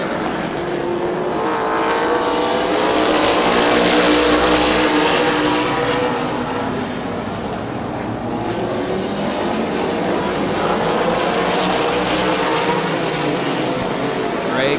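Race cars lapping the oval at Midvale Speedway, a continuous loud engine roar that swells and fades slightly as the pack circles, with no break throughout.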